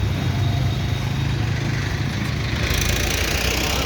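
JAWA Yezdi motorcycle engine running steadily as the rider sets off, a close, loud continuous drone with low rumbling pulses throughout.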